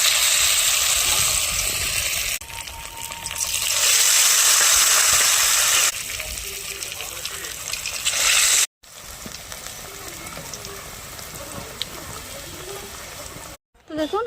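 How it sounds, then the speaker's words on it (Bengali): Roll pakoras frying in hot oil, a loud close sizzle that swells and fades in sections with brief cuts, bubbling hiss and occasional pops, with a voice talking over part of it. "আবারও এইভাবে আমি আবার ভেজে নেব।"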